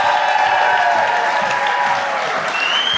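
Audience at a comedy show in a theatre breaks into sustained applause, a dense wash of clapping that holds evenly throughout.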